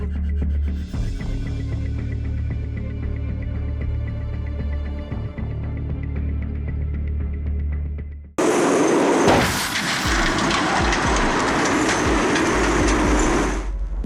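A train rushing past a level crossing where a car blocks the tracks: a low steady rumble for about eight seconds, then an abrupt, much louder broadband roar of impact and passing carriages to the end.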